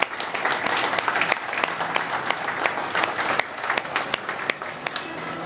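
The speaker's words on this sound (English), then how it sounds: "So please, everyone, a round of applause for Joe." Dense applause from an event crowd of Kubes Steel employees and families at the company's 40th anniversary celebration, steady and full throughout with scattered sharper claps standing out.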